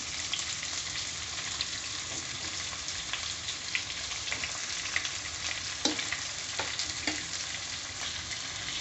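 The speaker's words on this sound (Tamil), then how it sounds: "போட்டு அதையும் நல்லா ஃப்ரை பண்ணிக்கோங்க." Finely chopped onions frying in a pan for chicken kulambu, a steady bright sizzle throughout with occasional pops and light stirring clicks, close and without talk.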